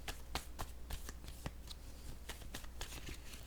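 Cards for a tarot-style reading are shuffled and drawn by hand, close and soft, giving a quick series of papery flicks and riffles over a low steady background hum.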